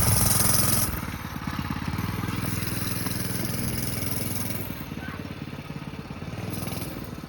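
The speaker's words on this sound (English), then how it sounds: "we can start the engine and go" Small go-kart engine running steadily with a buzzy, chugging motor drone, loud and close throughout, with a brief louder burst at the start.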